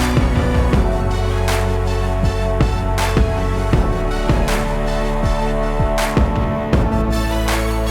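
The hook of Beyoncé's "Halo" plays alone as a produced arrangement: a steady pulsing beat with repeated drum hits, layered synths and a lead, louder than before, its filter opening wider for a brighter sound.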